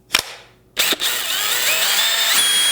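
A cordless two-speed brushless hammer drill gives two short taps, then spins up and runs steadily with a high whine, close and fairly loud.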